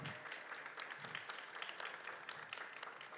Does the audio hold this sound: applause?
yes